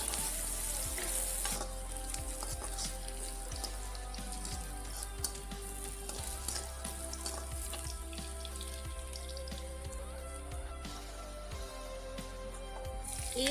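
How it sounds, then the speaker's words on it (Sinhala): Crushed ginger and garlic frying in hot oil for a prawn tempered dish, a steady dense sizzle running throughout, close and loud, with occasional light stirring clicks and no talking. "මුලින්ම අපි තලාගත්ත ඉඟුරු සුදු ලුණු ටික මේ වගේ තෙල් එකේ දාලා ඒක ටිකක් හොඳට ටෙම්පරාදු කරගන්න ඕනේ"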